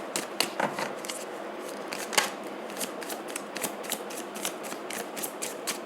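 Tarot cards are shuffled close up, a rapid run of crisp riffling flicks and slaps in uneven bursts, with quieter rustling between them.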